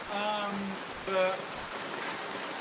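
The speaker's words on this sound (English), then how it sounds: "I realise there's a very, very heavy rain sound, so you've got to really enunciate." Heavy rain pours steadily outdoors as a constant hiss behind the scene, while a voice with tonal, sung-like phrases rises briefly over it in two short bursts.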